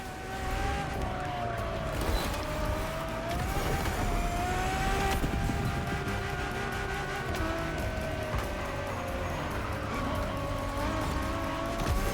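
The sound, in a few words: Ferrari car engine driving in video game The Crew: Motorfest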